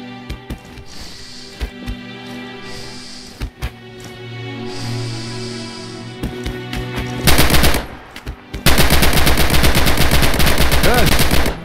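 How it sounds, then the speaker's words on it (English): Blind fire from cover in the WWII shooter Red Orchestra 2 at Stalingrad: scattered loud gunshots, then dense bursts of rapid automatic machine-gun fire that grow into a sustained, close roar. "Use blind fire now and see what you can hit."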